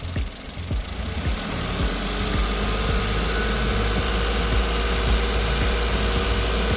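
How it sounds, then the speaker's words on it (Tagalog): A Suzuki DA17V van engine is revved while being checked for knocking, rising from idle into a loud, sustained mid-pitched hum with a rhythmic pulsing throb and some vibration, close up and without talk. "So, i-try natin ngayon i-rev ha. Sige, apit mo dito. Subukan natin kung may knocking or anything."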